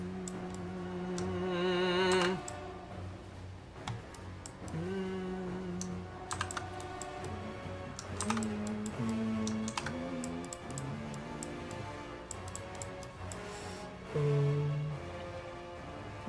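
Clicky computer keyboard being typed on in bursts of quick, close keystrokes, with ticking taps scattered beneath tonal game music.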